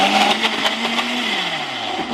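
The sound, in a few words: blender running on smoothie setting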